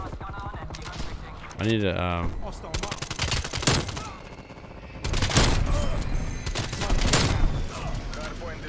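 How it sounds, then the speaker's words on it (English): Strafe run scorestreak fire rains down in Call of Duty Cold War multiplayer: loud, dense bursts of rapid gunfire and impacts, mixed with game effects and a brief voice. "Here comes again the strafe run."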